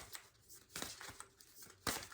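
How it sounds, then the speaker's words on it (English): A large tarot deck being shuffled by hand: a quiet run of papery riffles and soft card slaps in uneven bursts, heard close up with no talking. "this deck is so big, it's hard to shuffle"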